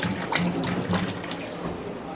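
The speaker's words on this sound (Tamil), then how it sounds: "இப்போ நம்ம ஒரு டின்னு ஊற்றுறோம்." Cold-pressed coconut oil poured from a tin in a steady, close liquid stream for a couple of seconds, with a soft gurgle and no talking.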